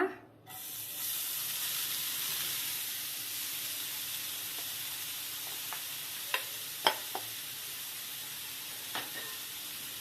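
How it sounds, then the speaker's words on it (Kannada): Grated carrots frying in ghee in a pan, half a kilo of them, give a steady broadband sizzle throughout, with a few sharp spatula clinks against the pan in the second half and no talking. "ಈಗ ಇದನ್ನ ಈ ತುಪ್ಪನಲ್ಲೇ ಫ್ರೈ ಮಾಡ್ಕೊಳ್ಳೋಣ"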